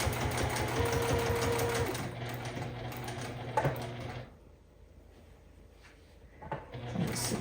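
A sewing machine runs steadily as it sews a reinforcement stitch around a worn towel being made into a face cloth. The motor hums and whirs for about four seconds, then stops, leaving quiet handling noises.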